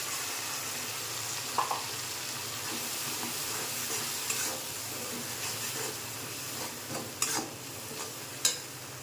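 Spice masala sizzles steadily in hot cooking oil for a curry, a constant close hiss broken by a few soft clinks and scrapes of stirring.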